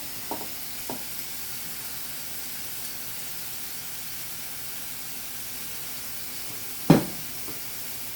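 Pasta is tossed in a hot pan, sounding as a quiet, continuous sizzling hiss with a couple of soft knocks early on and one sharp clatter of the pan near the end.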